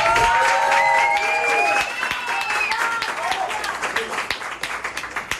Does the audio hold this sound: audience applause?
yes